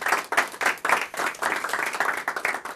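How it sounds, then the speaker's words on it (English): An audience at an evening workshop claps in a short burst, individual hand claps audible in uneven bunches that stay fairly close and lively, then taper slightly toward the end. "Can I get another round of applause for everybody that shared their stories here tonight?"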